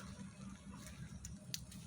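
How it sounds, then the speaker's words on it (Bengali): Soft, steady patter of rain falling on tree leaves, fairly faint and continuous, with a low rumble underneath and no voices. "তার মধ্যে এখন বৃষ্টি পাচ্ছে"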